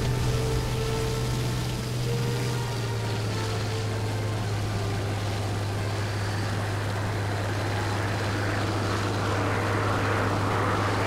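Engine drone of a Bf 109 K-4 fighter in War Thunder, a steady, loud piston hum with a low tone that dips slightly early on, then holds constant while wind noise swells toward the end.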